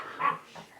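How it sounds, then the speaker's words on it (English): A single short dog bark, faint and in the background, is followed by a softer trailing whine. "a dog in the background."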